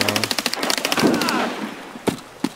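Gunfire from a Mosin rifle in the video game Escape From Tarkov sounds as a rapid burst of sharp cracks followed by echoing shots, loud and close, then fading out.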